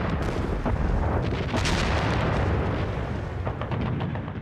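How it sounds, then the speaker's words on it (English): Heavy artillery fire from the huge 15-inch guns of World War I naval monitors, a loud, continuous rumbling barrage of booms and bursts that fills the whole stretch and fades slightly toward the end. "They were supported by 2 World War I monitors with huge 15-inch guns."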